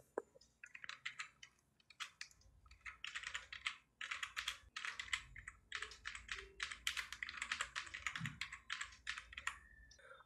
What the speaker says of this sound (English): Now I'm typing in fast forward